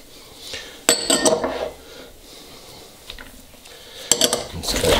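Cabbage, onion, green and jalapeno peppers and carrots being tossed together for Haitian pikliz, with bursts of clinking and scraping from utensils against a bowl and soft rustling between them, close and fairly loud.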